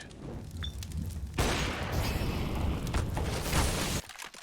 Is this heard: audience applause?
no